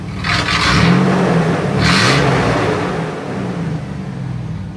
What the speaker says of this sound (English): The idle just kicked down, you can hear it there, and here's a little rev.